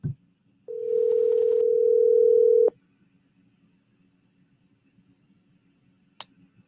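A telephone dial tone sounds on a live call-in talk show, holding steady and clear for about two seconds before cutting off with a click, followed by near silence and a brief beep.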